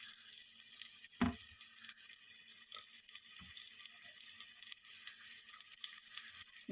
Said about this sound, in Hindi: अभी उसमें मैं 1 कश्मीरी मिर्ची डालूंगी, जो मैंने आधी मोड़ ली है।